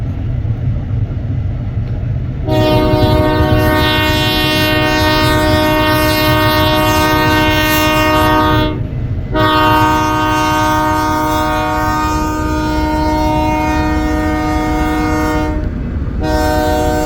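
A northbound freight train sounds its horn in long, loud blasts up close, each sustained chord broken by short gaps, while the rumble and clatter of the passing cars continue underneath.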